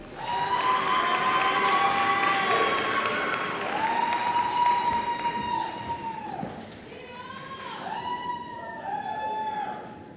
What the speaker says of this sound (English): Please join me in a round of applause for our bachelor degree students.